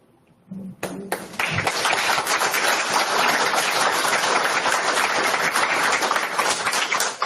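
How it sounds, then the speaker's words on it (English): Council meeting audience in a borough chamber breaks into sustained applause for Chief Simpson, a dense, steady wash of many hands clapping that starts after a brief lull and continues loudly to the end. "Chief Simpson deserves that round of applause and then some."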